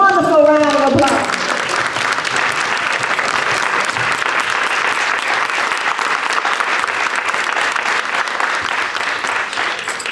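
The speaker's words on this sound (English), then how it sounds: "Let us give all of our scholars a wonderful round of applause." Sustained applause from a crowd honoring scholars at a 2014 ombudsman graduation ceremony, loud and steady across the room, with a brief bit of talk at the very start.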